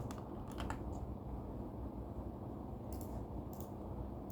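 Keystrokes on a computer keyboard while setting up a JavaScript project, a few quick clusters of taps near the start and again toward the end over a steady low room hum.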